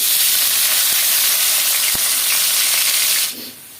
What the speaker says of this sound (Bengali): রসুনটা ব্রাউন কালার করে ভেজে নেব।